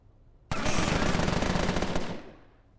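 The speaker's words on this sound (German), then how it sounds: "Jetzt knallst du den ab. Feuerstoß." A single sustained burst of automatic gunfire in the video game Empire of Sin, a loud, rapid rattle lasting about a second and a half before cutting off into a short decaying tail.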